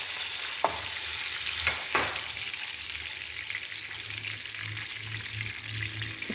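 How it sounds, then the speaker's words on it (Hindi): Masala frying in a pan for a baigan biryani, a small splash of water added with brief sharp pours near the start, then steady sizzling and stirring scrapes throughout, fairly quiet and close with no talk. "इसके बाद जो है ये थोड़ा सा पानी जो है ये इसमें डलेगा।"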